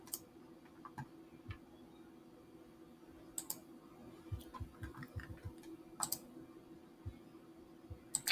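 Mouse clicks while drawing sketch lines in CAD software: quiet, scattered single clicks and small taps at an irregular pace, with a few sharper clicks standing out over a low steady hum.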